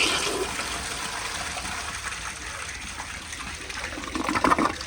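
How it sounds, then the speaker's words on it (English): A 1965 Kohler Barlow toilet flushes on a flushometer, a steady close rush of draining water that swells into a gurgling surge near the end. "I'm gonna hold it kind of high up like this, and I'll give you all a flush"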